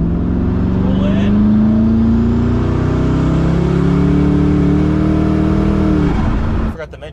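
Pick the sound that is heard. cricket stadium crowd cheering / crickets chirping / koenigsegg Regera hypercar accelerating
koenigsegg Regera hypercar accelerating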